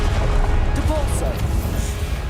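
Depulso spell cast in Hogwarts Legacy, a short magical whoosh and crackle that rises over a steady rumbling game background while a voice speaks over it.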